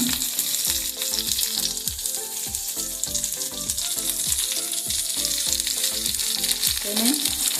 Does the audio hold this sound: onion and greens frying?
yes